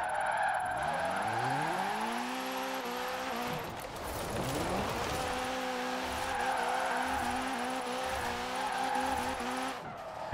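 In Forza Horizon 4, a car drifts with its tyres squealing hard over a loud engine whose pitch climbs through the gears. The screech dips briefly midway, then a sustained skid carries on to the end.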